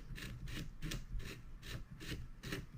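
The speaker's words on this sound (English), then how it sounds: "And you take your lock ring and just start tightening that down." Close, soft rasping strokes repeat in a steady rhythm, about seven in all, as a lock ring is tightened down onto a Panzer BP12 shotgun barrel, with no talking.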